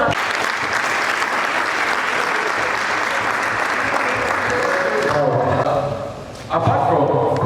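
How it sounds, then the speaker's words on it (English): An audience at a DevFest tech community event in Bamenda claps steadily in sustained, dense applause, dipping briefly near the end before swelling again. "Please, a round of applause"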